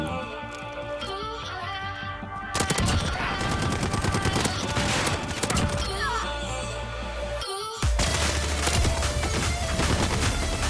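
Rapid MP5 submachine gun hip fire in Modern Warfare 2019 rattles in long dense bursts, loud and close, with a brief pause before another sustained volley.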